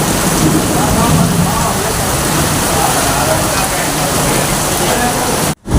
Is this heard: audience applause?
no